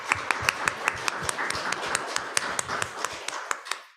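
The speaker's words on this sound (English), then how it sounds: "let's give another round of applause to our panelists" Audience applause for a panel of speakers at an institutional effectiveness presentation, heard as a dense run of distinct handclaps from a small-to-medium crowd that fades out at the end.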